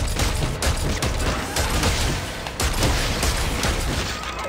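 Rapid, continuous machine-gun-like weapon fire from the Dead Space 3 video game rattles on for several seconds, dense and loud, with booming bursts throughout.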